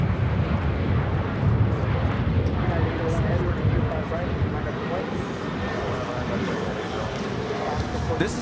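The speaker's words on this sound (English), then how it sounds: "Airlines 1430 taking off to Los Cabos on the 737-900ER." A Boeing 737-900ER jet takes off at LAX, its engines a steady broadband roar that holds loud and constant throughout.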